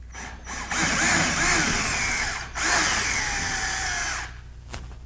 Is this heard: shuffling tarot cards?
no